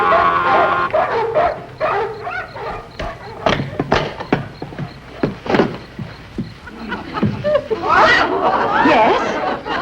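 Neighbors' dogs bark in a 1950s TV comedy scene, with a run of sharp, fairly close barks and yips that come and go over busy background chatter and voices.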